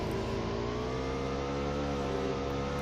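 A motorcycle engine in PUBG Mobile drones at a steady, continuous pitch with a slightly rising whine, loud and close, running alone without talk.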